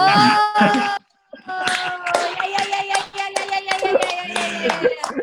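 Hand clapping among comedians on a podcast, sharp close claps mixed with voices and laughter-like vocal sounds, a short gap near one second then a run of several claps under continued voices.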